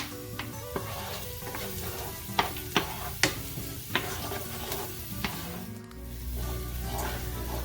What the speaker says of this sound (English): You just want to make sure you saute this onion until it's nice golden brown